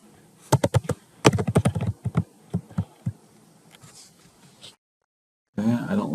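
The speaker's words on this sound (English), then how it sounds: "Okay, I'm going to type" Keyboard typing while entering text in V Carve Pro 9.5 sign-design software: a quick burst of close, crisp key clicks, then scattered taps that thin out, a brief silence and a returning rustle of handling noise.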